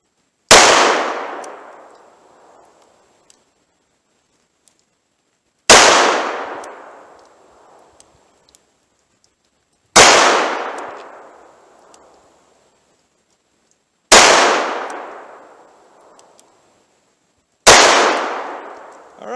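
Five .38 Special revolver shots with Underwood Xtreme Defender cartridges, fired double action, each a loud sharp crack with a short decaying tail, spaced roughly four seconds apart with quiet between them.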